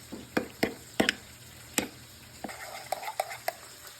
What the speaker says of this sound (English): Let's go ahead and get all that stirred together